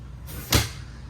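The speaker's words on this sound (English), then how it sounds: "All the doors slide." A cabinet door slides along its track in a Wheeled Coach Type III ambulance built on a 2016 Ford E450, one quick close glide ending in a soft clack, with no voices.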